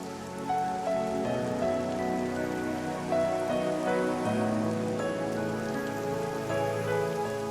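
Heavy rain pours steadily in a dense, constant hiss with no gaps, loud and close throughout while music plays underneath.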